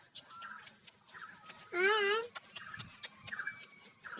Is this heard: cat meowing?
yes